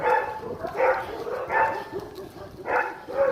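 Several dogs, including a wolf dog, bark and yelp in a Russian winter setting, giving a few repeated barks at moderate distance over a noisy background, with no clear talk.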